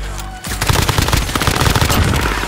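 Rapid automatic gunfire in a first-person shooter video game, a sustained burst of loud, closely spaced shots fired through wood, beginning after a brief pause and continuing steadily to the end.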